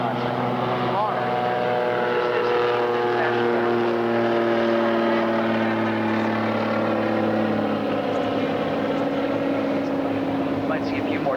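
A floatplane on Lake Union in Seattle drones steadily as it takes off or lands, its propeller and engine hum sustained and fairly loud throughout, heard from a passing cruise boat.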